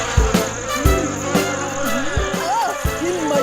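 Cartoon mosquitoes buzz with whining, wavering drones over a background of thuds and clatter, fairly loud and close in a short animated scene.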